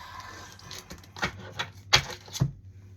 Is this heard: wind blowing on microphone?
no